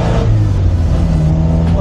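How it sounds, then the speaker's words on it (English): A Triumph Herald classic car driving on the way to a vintage rally, its engine a steady low drone from inside the cabin with continuous road rumble throughout. "So here we are going in the Triumph Herald."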